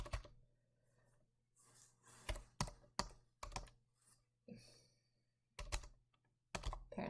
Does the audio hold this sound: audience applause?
no